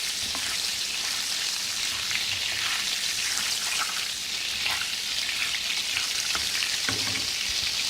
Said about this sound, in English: as my butter it has started to melt